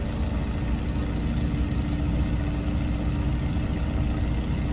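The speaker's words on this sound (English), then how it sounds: "Okay, full throttle." A Stearman biplane's engine at full throttle in a flight simulator game, a steady, loud, unbroken droning roar with a constant low hum throughout and no voices.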